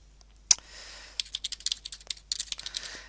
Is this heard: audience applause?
no